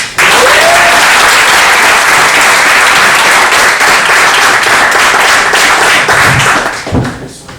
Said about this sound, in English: I just wanted everyone to give a more round of applause to Dave Swan